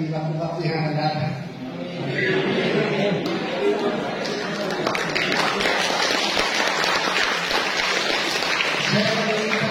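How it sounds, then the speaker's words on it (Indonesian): Congregation applauding at a thanksgiving Mass for a priest's 25th ordination anniversary, a broad dense clapping swelling in after a speaker's voice and continuing loudly, with talk heard at the start and near the end. "Saya meminta aplaus dan sudah tepuk tangan sendiri"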